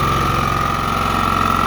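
A portable generator runs steadily at a state park campground in North Carolina, a constant close idle hum with a fine rhythmic pulse and no voices.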